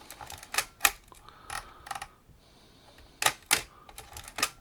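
A Nikon F3 film camera shutter fires several times, each crisp mechanical click coming singly or in quick pairs with short pauses between, close up and fairly quiet, with no talking.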